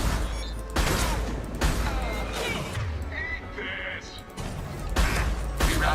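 Bursts of automatic gunfire from an automated weapon ring in the video game Mass Effect 2, rapid crackling volleys repeating every second or so over game effects, loud and close.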